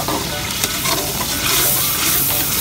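Masala with chicken frying in ghee in a home kitchen, a dense continuous sizzle with stirring close by, no talk.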